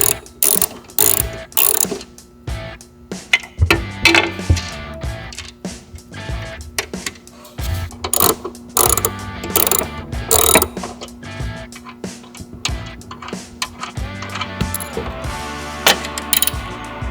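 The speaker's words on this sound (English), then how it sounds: "So you just want to come underneath here and run these 4 nuts off" A ratchet wrench works four nuts off the underside of a Harley-Davidson touring tour pack mount, giving rapid clicking runs in repeated bursts with pauses between, close and crisp, alongside occasional metallic handling.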